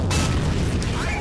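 A tank shell strikes a turret in the video game Steel Fury with a single loud, close boom that leaves a short, deep rumble as it fades.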